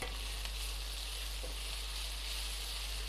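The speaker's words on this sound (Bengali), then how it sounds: "এবার আমি এর মধ্যে টমেটো অ্যাড করে দেবো।" Tomatoes go into ginger-garlic paste frying in a pan, giving a steady, even sizzle with a constant low hum beneath it.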